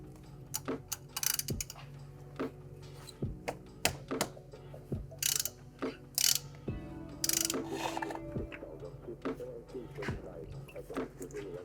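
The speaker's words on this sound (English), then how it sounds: "we're going to remove our filter, which is a 24mm socket." A ratchet with a 24mm socket loosens the Haldex filter on a VW/Audi Gen 2 Haldex unit, making repeated bursts of sharp metallic clicks with short pauses between strokes, close and clear.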